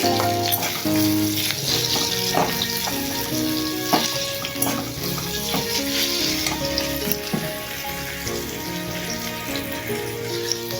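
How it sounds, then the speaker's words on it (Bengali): Chopped garlic and onion fry in hot oil for a vegetable khichuri spice base, a steady close sizzle with crackling pops and occasional stirring scrapes throughout, no voices. "তেলে রসুন ছোটো করে দিয়েছি পেঁয়াজ দিয়েছি"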